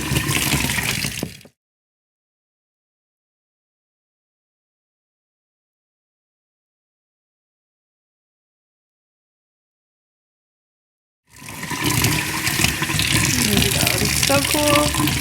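Tap water gushes over a bleach-dyed T-shirt being rinsed in a sink, a steady broadband splashing heard in two bursts, first about a second and a half, then again after a long silence.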